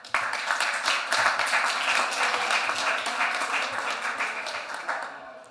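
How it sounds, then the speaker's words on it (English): An audience at a COP28 climate justice panel claps steadily in a dense burst of applause that stays loud and even for several seconds before tapering at the end. "Please, some applause for Hilde Stroot."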